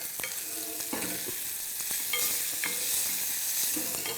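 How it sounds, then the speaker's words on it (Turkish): Pastırma, a cured beef, sautéing in a pan with a soft continuous sizzle and several light stirring scrapes and taps spread evenly throughout. "Pastırma bence yeteri kadar kavruldu."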